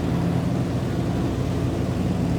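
Grumman J2F Duck radial engine in Microsoft Flight Simulator throttling up, a steady loud droning roar with low propeller rumble holding throughout, no voices.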